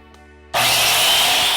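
A power saw starts abruptly after a brief quiet hum and cuts through the end of a hose flag pole, a loud, steady, close whine that continues to the end.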